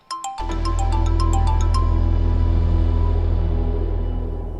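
A phone rings loudly and close by, opening with a short burst of bright repeated chimes that turns into a sustained buzzing electronic ringtone melody, heard alone with no voices.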